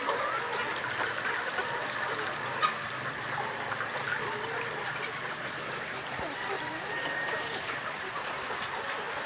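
Water trickles steadily as it is added to a chicken drinker, a soft continuous flowing hiss at moderate distance with no talk over it.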